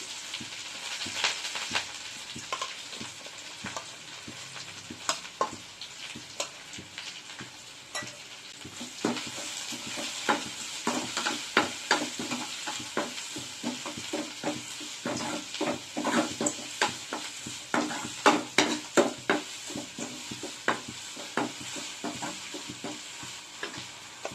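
Onions and curry leaves fry in a pan with fenugreek and cumin for a ragi-kali dried-fish kuzhambu, a steady close sizzle broken by frequent scraping stirs and ladle clicks that grow busier partway through.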